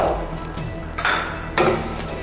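A spoon stirs thick sesame and jaggery syrup in a metal pot for til-gul laddoos, giving a few distinct scraping clinks against the pan over a low steady background.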